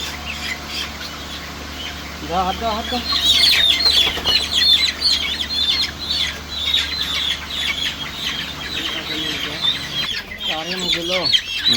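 Chickens, one held for beak trimming, cluck and squawk repeatedly at close range while background chirping and other bird calls continue throughout.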